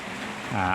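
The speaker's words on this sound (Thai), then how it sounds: "ฝนกำลังตกนะครับ" Steady broadband hiss of rain falling, a continuous wash that swells louder near the end, with a low rumble underneath.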